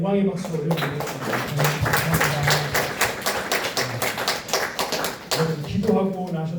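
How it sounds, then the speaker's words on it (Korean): A church congregation breaks into applause after a prayer, a dense stretch of many hands clapping for several seconds, with a voice speaking just before and after. "기도를 들으신 하나님께 감사와 영광의 박수를 올려드리겠습니다."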